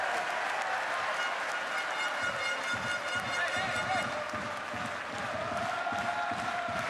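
Basketball arena crowd at a Champions League game between Umana Reyer Venezia and Banvit, cheering and applauding steadily after a 3-point play, a dense roar filling the whole stretch with low thumps underneath.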